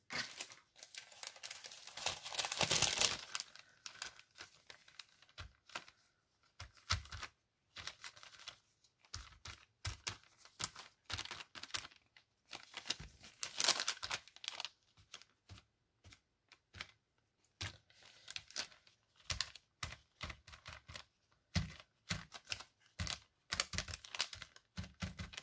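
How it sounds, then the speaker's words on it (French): Paper and plastic crinkling during art journal work at a desk, irregular rustling bursts and crackles scattered throughout, close and fairly quiet with pauses between handling. "Désolée pour les bruits de papier, hein, de plastique."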